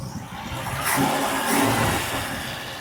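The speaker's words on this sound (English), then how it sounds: "if that engine is knocking or if it's pre-ignition, because that now sounds better." A car engine with suspected knocking or pre-ignition runs steadily nearby, its note rising briefly twice as if revved, with a faint rough undertone.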